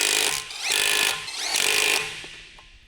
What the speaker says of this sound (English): Using the 21mm long socket with the electric impact wrench, snug the lug nuts.